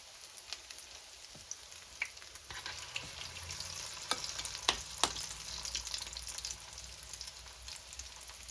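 Southern fish cakes fry in a pan turned down to medium heat, giving a steady close sizzle with sharp pops and crackles at intervals, and no one talks.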